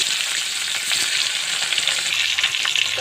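Rui fish frying in hot soybean oil in a pan, a loud, steady, close hiss of sizzling bubbles that crackles unevenly throughout, with no voices.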